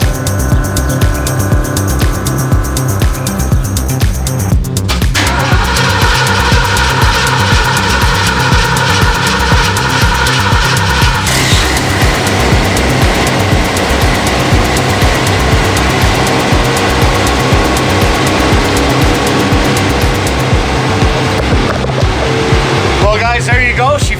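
A 1976 Bricklin's engine cranks and catches, then settles into a loud, steady idle up close, with a few shifts in tone as it keeps running and a brief clatter near the end.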